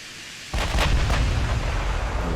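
Naval artillery fire from warships in the game Ultimate Admiral: Dreadnoughts: a sudden heavy boom followed by a few sharp cracks and a sustained rumbling roar, loud and close, with no voices.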